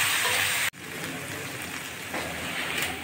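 Potatoes frying in oil, seasoned with a little salt and turmeric: a continuous bright sizzle and crackle, close and fairly loud, briefly cut off after a moment and then resuming steadily.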